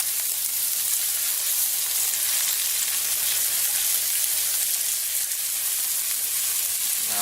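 Chicken frying in a splattering pan for a chicken, bacon and avocado salad gives a constant, dense, close sizzle and crackle with no pauses.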